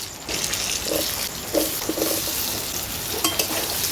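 Potato pieces are stirred through hot spiced oil with ginger, giving a steady close sizzle broken by a few scraping, clattering strokes of a spoon against the pan.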